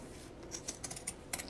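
Scissors trimming through thick layered fabric at the stem and leaf of an apple-shaped coin purse, a handful of quiet crisp snips spaced irregularly, close and soft against a faint background.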